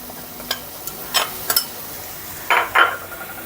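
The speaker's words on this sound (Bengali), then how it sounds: "এখন বাটা মশলায় শিলপাটায় বাটছি আমি" Spices being ground by hand on a shil-pata grinding stone: a handful of short, irregular scraping strokes, close and fairly soft, with quiet gaps between them and no talking.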